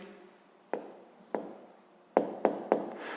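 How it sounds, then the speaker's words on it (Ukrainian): A sixth-grade maths answer being written down: five short, crisp strokes on a quiet background, the first two spaced apart and the last three in quicker succession. No one speaks. "Е, записуємо відповідь."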